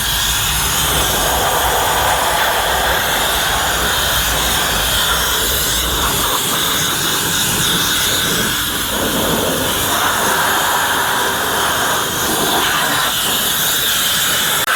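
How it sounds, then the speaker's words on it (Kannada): A steam cleaner hisses steadily and loudly while steaming and sanitising a car's interior during a steam wash and detailing job, a continuous rushing jet with no talk over it. "ಆಮೇಲೆ complete interior sanitise plus steam ಆಗ್ತಾ ಇದೆ"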